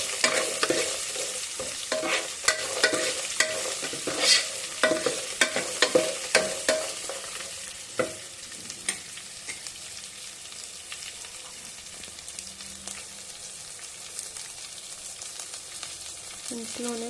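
Onions lightly frying in a pan for upma, stirred with a spoon that gives repeated scraping clicks over a steady sizzle, busier in the first half and then quieter, with no talking.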